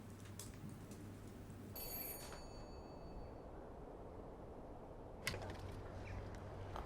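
A single doorbell chime rings out and fades over a couple of seconds, with faint clatter and low hum around it.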